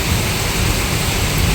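Heavy rain pours steadily during a thunderstorm in Ranebennur, a dense close roar of rainfall with low rumbling thunder running underneath, continuous and loud throughout with no voices.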